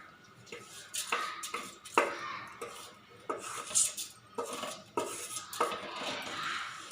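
Clattering kitchen sounds as curry leaves, cumin, red chilli, salt and groundnuts are tipped into a mixer jar: repeated knocks and clinks of spoons and containers, close by, with no talking.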